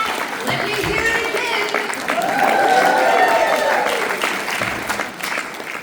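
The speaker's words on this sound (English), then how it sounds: "a big round of applause for you guys now" A crowd applauds steadily for several seconds at a live performance event in Adelaide, the clapping dense and loud, with some cheering voices mixed in.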